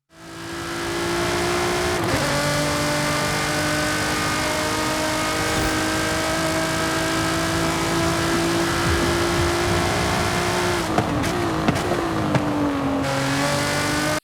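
A Nissan GT-R with a 3.8-liter V6 racing in Forza Horizon 5, its engine holding a loud sustained drone with shifts in pitch and brief gear changes, heard alone without talk.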